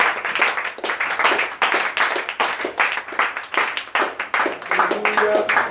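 A church congregation claps to acclaim the Lord, with loud rhythmic hand claps repeating steadily throughout and brief musical tones near the end.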